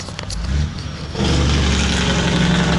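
A truck's engine brake on a road, heard as a loud, rough roar that swells in and then holds at full strength over a low rumble, with no voices.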